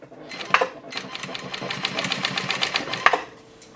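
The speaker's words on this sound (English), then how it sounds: "So here's the first notch. I'll sew this at about a quarter inch." A sewing machine stitches a quarter-inch seam in shirt fabric, running in a steady rapid rhythmic whir for a few seconds, close and moderately loud, with brief clicks at start and near the end.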